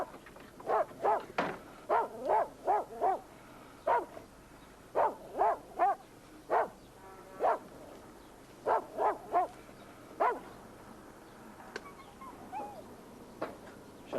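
A dog barks in a steady run of sharp, loud barks, often in quick pairs and triplets with short gaps, close by over faint background noise, then falls quiet near the end.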